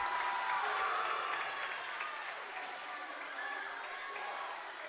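A crowd cheers and applauds steadily in a gym at a North Dakota high school volleyball game, Carrington against Northern Cass. The noise is moderately distant, loud at first, then easing.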